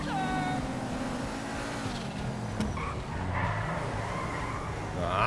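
Nissan 370Z drifting in GTA V with mods, tires squealing in long sliding tones over a steady engine drone while fleeing police, continuous and close throughout.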